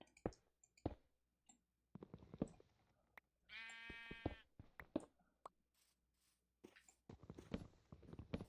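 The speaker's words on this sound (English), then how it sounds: "That sheep sounds like a horse whenever." A sheep in the Minecraft video game lets out a single clear bleat midway, surrounded by scattered clicky footsteps and block sounds in an otherwise quiet scene.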